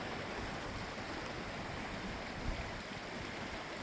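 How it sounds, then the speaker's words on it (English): A small mountain creek runs alongside Long Draw Road, giving a steady, broadband rush of flowing water that holds even throughout, with no voices over it. "is this little creek that runs alongside the road."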